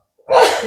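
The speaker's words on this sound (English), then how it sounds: "excuse me, I might sneeze, so don't mind me" A single sharp sneeze bursts out close by after a short intake of breath, loud and forceful.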